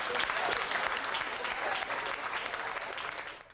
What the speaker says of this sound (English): A round of applause for these great personalities of jazz.